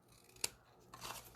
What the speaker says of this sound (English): So I'm just doing a little angle cut on those corner tabs so that they don't stick out.